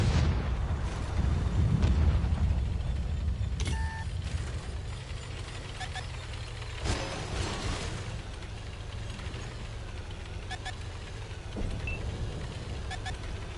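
An artillery shell strikes a player's tank in World of Tanks with a heavy, booming blast at the start, then rumbling engine noise and scattered metallic clanks and beeps.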